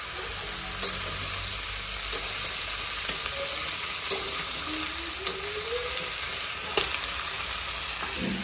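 Curry sizzles and fries in a pan with salt and turmeric, a continuous bright hiss with occasional stirring knocks and clinks over a low background hum.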